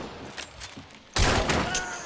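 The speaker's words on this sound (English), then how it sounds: "Guy's shooting at me right here." Gunfire erupts in the Hunt: Showdown video game, starting with a few distant pops, then one sharp, close, loud blast that leaves a ringing, echoing tail.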